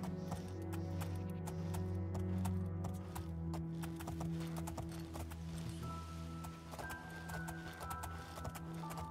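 A black horse's hooves clip-clop in the fantasy video game The Elder Scrolls IV: Oblivion, with steady footfalls over a low, sustained musical drone and no speech.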